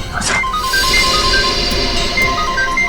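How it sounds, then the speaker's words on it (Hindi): A repeating electronic phone ringtone chirps in steady short tones, loud and close, over a busy noisy background. "फोन अभी भी बज रहा है।"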